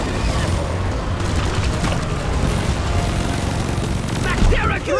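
Combat in the video game Deep Rock Galactic, with continuous loud gunfire and booms forming a dense, rumbling barrage while voices call out over the steady noise of the fight.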